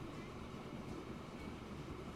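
A Baldwin steam train runs in Transport Fever 2, giving a steady, dense rolling rumble with constant rail noise and no distinct chuffs, heard alone without voices.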